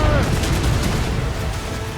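Ship cannons fire during a naval battle in Assassin's Creed Rogue, a dense, heavy booming barrage with rumbling low end, loud and continuous over the two seconds.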